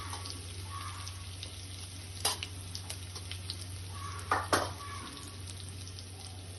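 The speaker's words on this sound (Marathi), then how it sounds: "हे आपल्याला आता फ्राय करून घ्यायचं आहे" Chili-garlic paste and turmeric fry in a pan for pithla, giving a steady close sizzle under a low hum, with a couple of sharper spoon stirs and scrapes near the middle and no talking.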